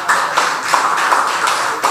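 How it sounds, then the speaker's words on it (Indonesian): Applause from an audience at a national congress gathering in Bandung, a dense, steady patter of many hands clapping throughout, fairly loud and continuous with small swells. "Tepuk tangan untuk Bu Ayu."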